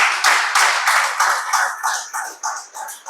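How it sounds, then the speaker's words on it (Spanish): A church congregation claps in time, a close, bright series of rhythmic handclaps repeating steadily about every quarter second with no talk over it. "Dale un fuerte aplauso a Dios"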